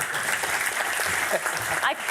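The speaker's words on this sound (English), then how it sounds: "can I get a round of applause for Sam, please?" Applause for Sam from a forum audience at the World Economic Forum, moderate, continuous clapping with voices mixed in over it.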